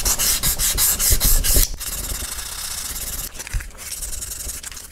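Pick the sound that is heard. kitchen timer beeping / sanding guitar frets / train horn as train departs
sanding guitar frets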